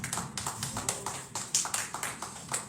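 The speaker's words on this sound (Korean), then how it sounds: "하나님께 영광의 박수 올려드리겠습니다." A church youth-group congregation claps in a slow, steady rhythm of sharp, distinct hand claps, moderately quiet and spaced about every quarter second with no talking over them.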